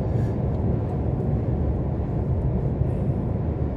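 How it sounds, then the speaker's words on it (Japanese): A car cruising along the Kyushu Expressway gives a loud, steady low road and engine rumble with tire roar, continuous throughout and without speech. "走行音とかもちょっとうるさいと思いますので"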